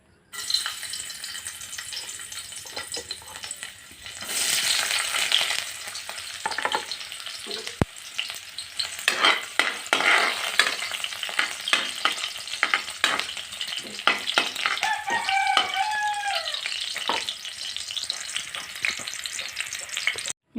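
Bitter gourd sizzles and fries in a pan, with steady crackling and repeated scraping stir strokes over about twenty seconds, close and fairly loud, with no voices.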